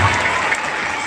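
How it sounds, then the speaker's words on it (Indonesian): A short burst of clapping from a classroom or gathering audience, a dense, steady patter filling the whole moment with no pause. "Tepuk tangan sendiri."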